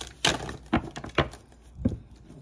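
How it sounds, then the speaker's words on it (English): Tarot cards being shuffled by hand, a few separate soft riffling slaps and taps spaced out over a couple of seconds, close and fairly quiet with no talk. "Two more shuffles for the Libras dealing with Capricorns."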